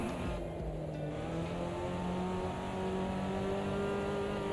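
Alpine rally car in the racing game Assetto Corsa Rally, its engine droning and revving steadily with rising and falling tones, loud and continuous, no voices.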